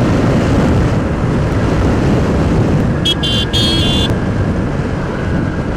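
A TVS Ntorq XT scooter racing in a nighttime drag race gives a steady, loud engine and wind roar that runs unbroken throughout, with a brief high whine partway through.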